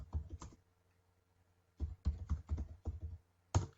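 Bursts of computer keyboard typing as a search for home business is entered, with a few quick clusters of key clicks separated by a pause, close and clear with no talk.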